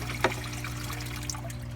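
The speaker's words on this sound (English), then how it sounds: "pumped from our bucket into the main sump" Water from a pumped bucket trickles steadily into a turtle tank sump, a faint continuous dribble over a low humming pump with a single soft splash near the start.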